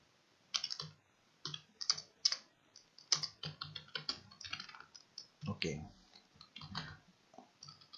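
Typing on a computer keyboard in quick bursts of close, crisp key clicks, with short pauses between runs of keystrokes and a voice speaking faintly in places.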